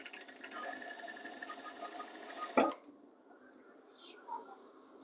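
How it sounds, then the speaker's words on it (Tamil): A sewing machine runs steadily while stitching a blouse sleeve with thread piping, a fast whirring rattle for about two and a half seconds before it stops with a sharp clunk, leaving faint room noise. "மேல் தையல் ஒன்று போட்டுக்கலாம், ரெண்டாவது தையல்."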